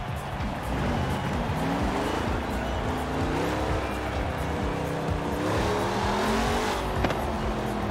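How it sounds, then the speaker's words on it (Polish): Chevrolet Impala with its standard engine in Forza Horizon 4, a loud, steady engine drone with rising and falling revs and some tire noise, heard alone throughout. "Posłuchajmy tej Impali na standardowym silniku."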